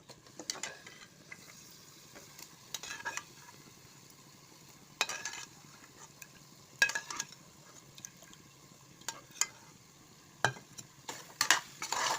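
Cooked mutton pieces are dropped and stirred into a pot for biryani, sharp clattering scrapes and thuds spaced irregularly over a quiet background, close by with no voices.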